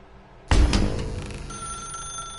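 A phone ringing inside The Stanley Parable video game bursts in sharply, a loud electronic bell tone with a sustained ring continuing alone at steady level.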